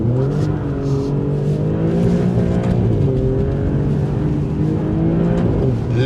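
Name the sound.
Alfa Romeo Giulia Quadrifoglio accelerating hard with wheelspin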